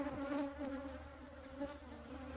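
Native stingless bees buzz close by in a faint, wavering drone, the hum rising and dipping as individuals pass, with no voices.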